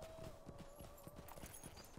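Steady, rhythmic clip-clop of horse hooves trotting in the video game LOTRO (Lord of the Rings Online), faint and even under a tonal background hum.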